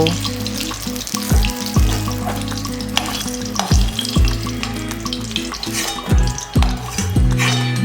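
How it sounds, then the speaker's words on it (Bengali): Eggplant pieces fry in hot oil with a loud, continuous sizzle, broken by sharp clanks and scrapes of a spatula turning them in the pan. The sound is close and dense, with no talking. "বেগুনগুলোকে আমি ঠিক এইভাবে ভেজে নিয়েছি"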